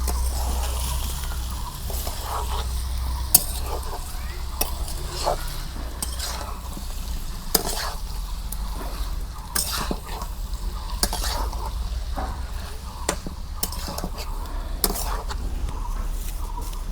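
Chunks of fresh local beef are stirred in a clay cooking pot over a village fire, with a soft steady sizzle under repeated sharp scrapes and knocks of the spatula against the pot at irregular intervals.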